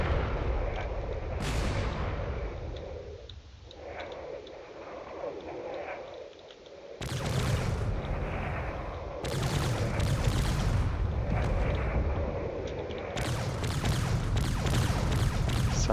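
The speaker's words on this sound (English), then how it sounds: "This carrier is not looking good, but it's still trying its best to fire with whatever it's got" A carrier ship in the space combat game Drone Wars fires its weapons in heavy, booming bursts, several loud blasts separated by short rumbling lulls, with no voices.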